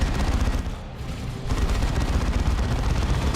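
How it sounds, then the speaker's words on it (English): Flame cannons firing in the Dawn of War 2 Elite mod strategy game, a loud, dense, continuous roaring rumble with heavy low end, briefly dipping before surging again. "Oh god, the flame cannons."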